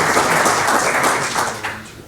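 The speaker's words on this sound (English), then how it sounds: "Some applause for the slide changer too," Audience at a Pecha Kucha talk night clapping for the slide changer, a steady spatter of many hands that thins and fades over about two seconds.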